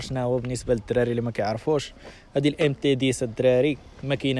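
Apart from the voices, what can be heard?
None of the usual background noises is heard.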